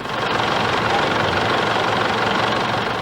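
Abandoned vehicles left with engines still idling in the aftermath of the Kuwait war: a steady, loud low rumble of running engines with no pauses, filling the whole scene.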